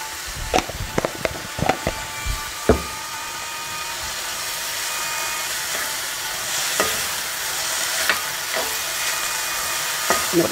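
Fenugreek (methi) leaves frying in oil in a pan for a Karnataka methi rice bath, a steady low sizzle broken by sharp scraping stirs clustered early and again near the end, no talking.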